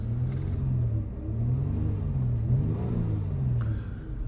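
Engine of a 2019 Dodge Charger GT revving while stationary, a steady low rumble that rises and falls in a few broad swells, close and loud, with no talking.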